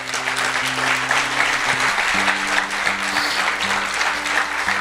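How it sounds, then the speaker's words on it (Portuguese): A church congregation at an anniversary service applauds strongly, a dense steady clapping with a sustained organ or keyboard chord held underneath and shifting partway through. "Você pode aplaudir a ele bem forte?"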